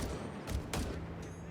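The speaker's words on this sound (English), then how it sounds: "Gunfire." Bursts of distant gunfire crackle through a Company of Heroes 3 battle, with two short volleys rising over a low rumbling backdrop, faint and brief.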